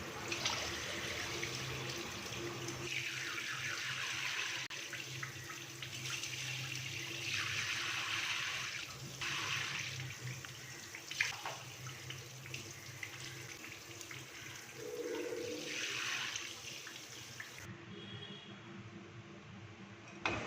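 Rice being rinsed in a sink under a steadily running kitchen tap, water splashing continuously for the whole stretch with surging swells as the grains are stirred, fairly close and alone with no talking.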